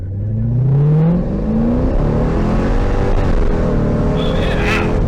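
A C6 Corvette V8 revs up loudly with a rising roar, drops pitch on a gear change, then keeps pulling hard at high volume through the following gears.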